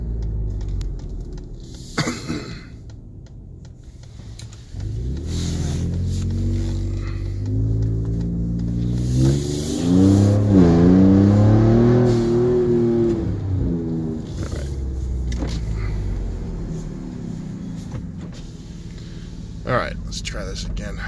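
A modified 2018 Ford Raptor pickup's engine idles and rises into a sustained rev with all the windows down, a deep rumbling swell heard from inside the cab, then settling back down.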